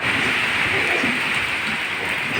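Rain in a windy storm in Tiruvannamalai district, a dense, steady roar of rainfall and gusting wind that stays loud and unbroken throughout.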